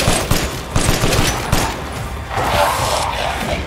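Rapid automatic gunfire in the Resident Evil Village video game, a dense, loud burst of repeated shots with booming low-end and echoing tails, continuous across the whole stretch with no talk.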